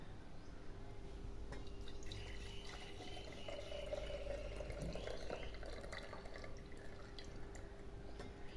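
Freshly brewed sweetened tea poured through a strainer, a faint steady trickle and drip of liquid with a low hum underneath, continuous and quiet for several seconds.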